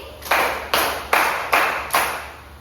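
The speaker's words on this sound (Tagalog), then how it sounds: "bigyan mo nga ng limang palakpak ang inyong mga sarili" Children in a Grade 1 classroom clap five times together, each clap a distinct, evenly spaced, loud group slap ringing briefly in the room.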